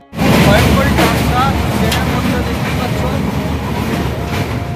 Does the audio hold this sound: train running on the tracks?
yes